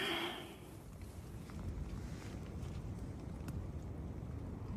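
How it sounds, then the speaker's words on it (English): Strong wind gusting around a cot tent at night in wind, rain and light snow, a steady low roaring whoosh that swells slightly and holds at a moderate level. "Oh, listen to that wind."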